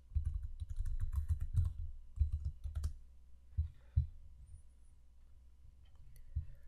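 Keystrokes on a computer keyboard entering a passphrase: quick bursts of close, crisp clicks, then a pause and a few scattered taps, with a faint background hum and no voices.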